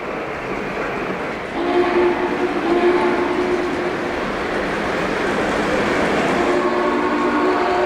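O scale model train whistle with a quill voicing copying a Big Boy steam locomotive, a sustained multi-tone chime sounding continuously, loud and close, swelling slightly midway with no talk.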